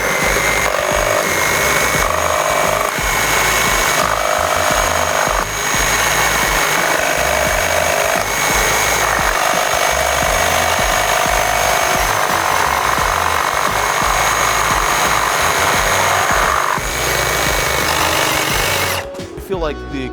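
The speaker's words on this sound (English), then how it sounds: "I'll be using the wrecker with nitrous carbide blade" A Milwaukee Wrecker reciprocating saw with a Nitrous carbide blade roars loud and steady through material such as shingles, cement board or angle iron, its rapid buzzing stroke continuous for nearly twenty seconds before cutting off abruptly.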